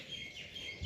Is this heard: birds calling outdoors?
yes